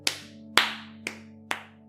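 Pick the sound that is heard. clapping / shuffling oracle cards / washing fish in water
clapping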